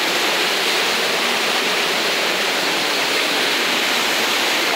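A river in flood rushes after heavy overnight rain at Joaquim Gomes, Alagoas. It makes a loud, unbroken roar of churning water that stays steady and dense throughout, with no voices.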